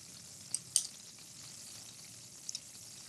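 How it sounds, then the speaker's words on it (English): Tempeh sizzling in a pan with a faint, steady fry hiss while a spice blend of smoky chorizo seasoning, salt, pepper and dried thyme is stirred in, with a few brief scraping clicks near the start and end. "Get that all stirred together"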